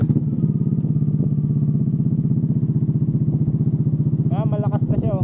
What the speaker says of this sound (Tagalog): Test ride natin yung ating SC Project, walang silencer mga tol.